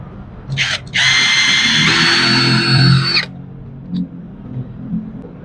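A power drill bores out and enlarges an angled hole in a DIY hammer rack, whining steadily for about two seconds after a brief opening burst, close and loud, then stopping.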